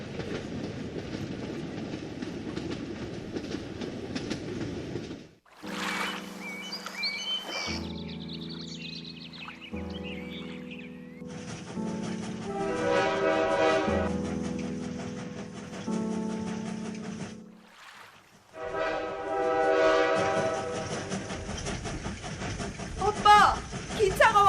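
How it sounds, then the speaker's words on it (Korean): A train approaching, with steady rumbling and clickety-clack passages broken by musical sections and pauses, and a voice speaking partway through. "기차가 와요."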